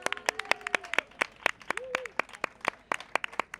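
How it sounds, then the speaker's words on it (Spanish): Scattered clapping from a small audience at a protest camp, uneven sharp claps at varying distances with a brief voice or whistle-like tone mixed in, short and sparse rather than a full ovation. "Venga, un aplauso para ellos."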